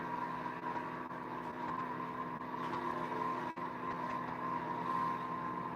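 A homemade axial flux motor runs on three coils with a faint, steady electrical whine and hum, broken by a brief sharp click midway.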